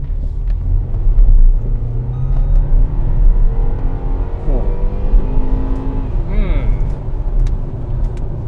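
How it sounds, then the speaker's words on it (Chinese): A 2.0 turbo BMW X1 accelerating on a test drive, heard from inside as a steady loud low engine rumble and road roar rising in pitch, with people talking over it. "我觉得这个加速表现还有这个加速感，应该是我们今天试驾三辆里面最好的了。"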